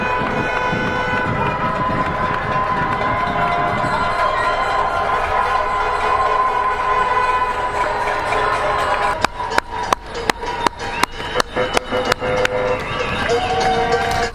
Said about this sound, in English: I never imagined anyone else being able to just bang pots and pans